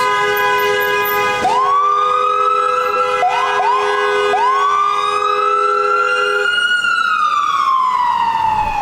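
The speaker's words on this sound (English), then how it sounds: "An ambulance." A loud ambulance siren wails close by, rising and falling in repeated sweeping cycles, then winding down as it passes.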